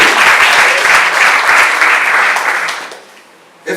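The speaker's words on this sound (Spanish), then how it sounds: "Démosle un aplauso al Señor." Church congregation applauding during a Spanish-language worship service, a loud, close burst of many hands clapping that holds steady, then fades out toward the end before a brief sound returns.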